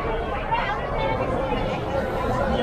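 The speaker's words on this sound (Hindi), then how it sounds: "ओ भाई साहब क्या भीड़ है।" Crowd chatter at a busy mixed market in Gandhinagar near Majestic, Bangalore, a dense and steady babble of many voices close around, with no single voice standing out.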